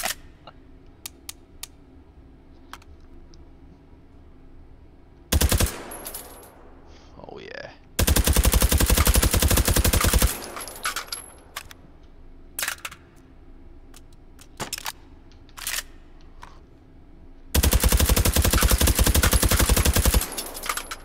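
Gunfire in the VR shooting game H3VR with standard ammunition: several sustained automatic bursts and scattered single shots, loud and close, with brief speech between the volleys.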